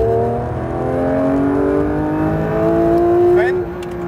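A car accelerating at full throttle on a track, its engine note climbing steadily and then shifting up a gear near the end, loud and close, with a voice speaking over it.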